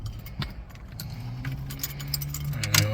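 Keys jangle on the ignition of a stalling 1994 Jeep YJ as it is switched off, bright metallic clinks scattered through a few seconds over a low, steady engine hum up close.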